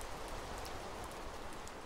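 Steady rain falls in the video game Minecraft, an even, continuous hiss of pattering drops with no pauses and no voices over it.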